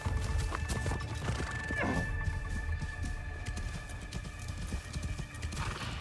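Hooves clip-clop in a steady rhythm from a horse in the video game Assassin's Creed: Shadows, with a brief whinny partway through, over continuous game ambience.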